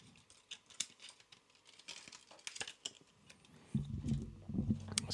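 Hasegawa tri-tool scissors snip through a plastic miniatures container in a series of sharp, close cuts and crinkles, ending in a denser burst of plastic crackling.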